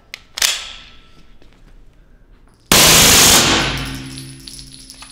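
A full-auto suppressed SilencerCo Maxim 9 firing at about 1,300 rounds per minute in a basement: a short sharp crack, then a loud dense burst of rapid shots lasting under a second that trails off into ringing reverberation.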